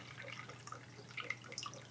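Water poured into a measuring cup up to the one-cup mark while baking a cake with kids, a faint, quiet trickle with light drips and splashes over about two seconds.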